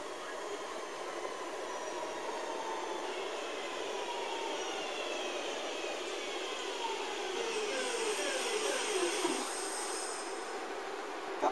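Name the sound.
train pulling into railway station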